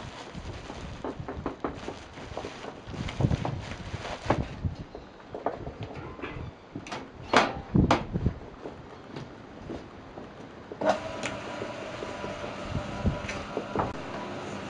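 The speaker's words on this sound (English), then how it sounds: "we empty the bag of binder into the mixer" A mixer churns hemp binder tipped in from a bag while building a hemp wall. Close, uneven rattling and scraping come first, then a steady humming motor drone with a clattering drum settles in for the last few seconds.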